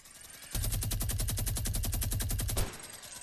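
Rapid automatic gunfire in a Fortnite Battle Royale duos match: one loud, sustained burst of evenly spaced shots lasting about two seconds, which then cuts off abruptly. No voices are heard over it.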